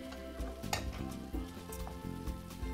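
Beans, tomatoes and spices sizzle in a pan for a vegan gnocchi stir fry, a steady close frying hiss with a few stirring bumps, set against a continuous backdrop of music.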